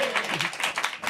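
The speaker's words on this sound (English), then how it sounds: "And they clap when I say something funny." A studio audience claps in a brief burst of applause, fairly close, with faint voices mixed in.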